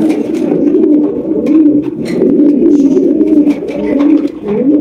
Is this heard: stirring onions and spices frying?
no